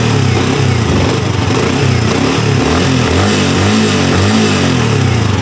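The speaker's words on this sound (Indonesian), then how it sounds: "Coba kita geber ya teman-teman." A sport motorcycle engine runs loud and close, throttled up into a continuous rough, throbbing roar with no talking.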